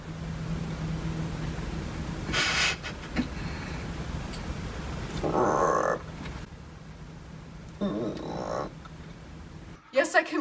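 A voice imitates a frog with several separate croaking bursts spread across the stretch, close and fairly loud over a steady background hiss, ending in a sharp clatter.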